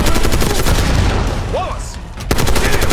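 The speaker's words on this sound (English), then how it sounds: "Machine gunner." Machine gun fire in the Call of Duty: Black Ops 6 campaign, a loud, dense, continuous burst of rapid shots close by, with a brief dip before the firing resumes at full intensity.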